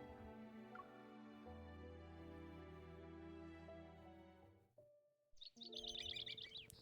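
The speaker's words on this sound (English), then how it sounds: "I hear birds chirping." Bright bird chirps and tweets in the video game Love and Deepspace arrive as soft, sustained ambient music fades, forming a lively cluster of calls near the end.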